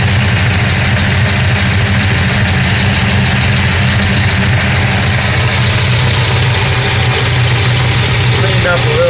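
A 1969 Charger's 440 engine idles loud and close, with the exhaust header banging under a dense, steady rumble that runs unbroken throughout.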